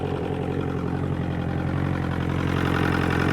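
An outboard motor, freshly fitted with a replacement water pump, runs steadily in reverse gear, a loud, continuous droning hum with a regular low throb and no talking.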